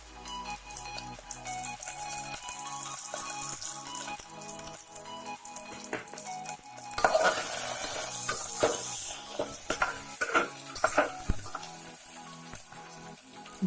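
Crushed garlic and ginger are stirred in a hot pan, giving soft crackling sizzles and scattered clinks of a utensil. A louder burst of frying spatter comes partway through, and no one speaks.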